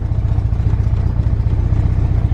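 A B20V turbocharged Honda Integra engine idles steadily, a continuous low rumble with a slight clatter, loud and close, with no speech.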